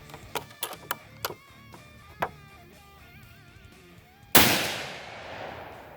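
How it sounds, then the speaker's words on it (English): A rifle shot from a Vetterli booms sharply near the end, its loud report trailing off in a long rolling echo, preceded by a few light mechanical clicks and faint handling noise. "I'm a little nervous about shooting this Vetterli for the first time."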